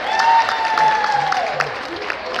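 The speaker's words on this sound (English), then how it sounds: "How about also a round of applause for our DJ company" Audience applause at a live hypnotist stage show: a dense, steady wash of many hands clapping in a large room, with some cheering mixed in and faint sustained tones beneath.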